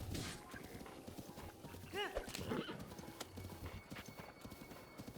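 Hooves clip-clop in a steady gallop across a Zelda: Breath of the Wild landscape, with a horse whinnying near the middle and a voice talking over game music throughout.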